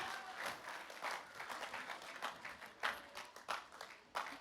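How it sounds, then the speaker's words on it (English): Audience applause for dancers at a Samoan siva academy showcase in West Brisbane, a moderately distant, steady patter of many hands with a few louder bursts, lasting throughout. "Give them a round of applause, ladies and gentlemen."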